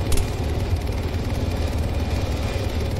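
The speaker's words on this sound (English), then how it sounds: "everybody be ready to disembark as soon as the chopper hits the ground" A military helicopter sets down for troops to disembark, its rotor and engine a loud, steady close drone with a rhythmic low thump throughout and no speech.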